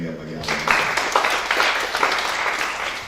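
Church congregation claps during a sermon, a brief voice or tone fading into a steady wave of crowd applause that fills the hall for a few seconds.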